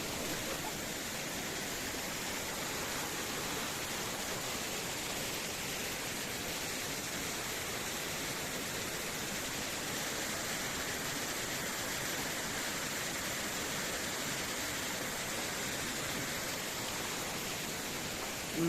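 Spring water gushing out at a hillside landslide in Rolpa, Nepal, a steady, dense rushing roar that holds constant throughout with no talking.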